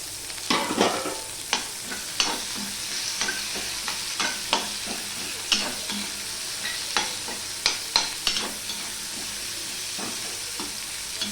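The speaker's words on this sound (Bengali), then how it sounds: "এবারে পেঁয়াজটা তো দিয়ে একটু নেড়ে চেড়ে নিলাম" Onions frying in a pan while being stirred with a spatula, a constant low sizzle under repeated close scraping and knocking strokes at an uneven rhythm, with no talking.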